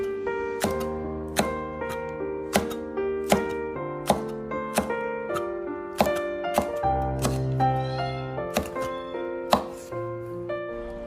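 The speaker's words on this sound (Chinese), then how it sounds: "准备2个红线椒，将红线椒切成薄片" A knife chops two red chili peppers into thin slices on a board, a steady run of crisp, evenly spaced taps set against background music.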